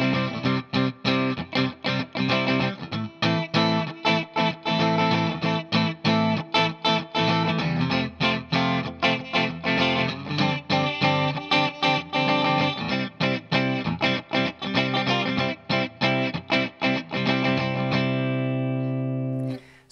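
Electric guitar strumming the verse chord progression of a song, with effects-coloured tone and steady rhythmic chops through an eight-bar loop, played alone and ringing out at the end.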